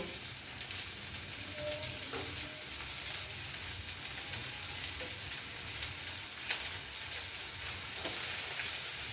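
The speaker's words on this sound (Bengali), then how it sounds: "এবার ওই তেলের মধ্যে আমি এই কারি পাতাটা ফোড়ন দিয়ে দেব, আর একটু পেঁয়াজ কুচি দেব।" Curry leaves and chopped onion sizzle in hot oil left from frying rui fish, a dense, steady crackling hiss heard close up and alone, with a few faint clinks of utensils through it.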